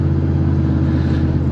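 Steady low engine rumble of a truck cruising along, a constant close drone from inside the cab with no talking.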